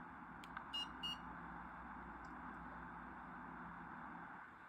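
A small buzzer on a sensor-based smart room monitor gadget, triggered by an infrared remote, gives a few short, faint beeps over a steady low hum.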